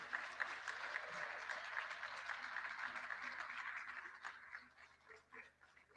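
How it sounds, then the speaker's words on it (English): Conference audience at a Social Business Day plenary session giving a big round of applause: a steady wash of many hands clapping at moderate distance, gradually thinning out and fading toward the end. "A big round of applause, please."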